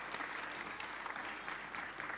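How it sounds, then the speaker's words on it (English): An audience at a conference's opening plenary applauds in a steady, even wash of clapping that stays fairly faint and distant throughout, without any talking over it. "Please give her a round of applause."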